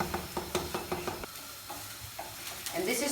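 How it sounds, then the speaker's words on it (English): Bream frying in a pan with onion, a steady sizzle broken by a quick run of rhythmic stirring scrapes at the start and a few more clinks later, with no talk. "You see that the fish is almost cooking, yeah?"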